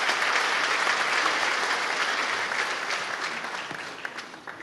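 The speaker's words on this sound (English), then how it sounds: "Also a hand of applause for her leadership in creating this project." Dense applause from an audience at a hotel opening ceremony, steady and full for a few seconds before gradually tapering off, with no talking over it.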